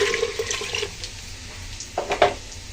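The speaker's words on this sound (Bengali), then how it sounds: "এখন আমি কাঁচা জল দিয়ে দেবো।" Cold tap water is poured into a pot of chana dal with papaya, making a soft, steady splash that thins out midway and then returns in a few brief gurgling spurts.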